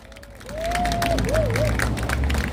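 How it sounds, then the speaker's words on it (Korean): An outdoor crowd at a rally gives sustained applause, a continuous dense patter of clapping that swells up and holds, with a tonal whine sliding through the background. "여러분 큰 박수 부탁드립니다."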